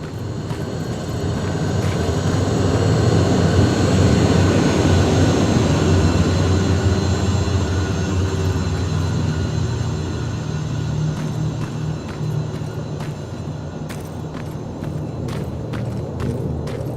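Deep, roaring jet-like engines of hunter-killer aircraft in the sci-fi shooter Terminator: Resistance, a loud, sustained rumble swelling and then slowly easing, with faint sharp clicks near the end and no voices.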